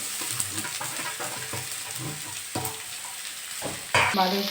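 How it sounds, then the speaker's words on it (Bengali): Capsicum and carrot stir-frying with onion and garlic for veg momo filling, a close, lively sizzle broken by repeated scraping strokes of a spatula and a sharper burst of frying near the end, no speech. "এবার আমি এগুলো দিয়ে দেবো ক্যাপসিকাম আর গাজর"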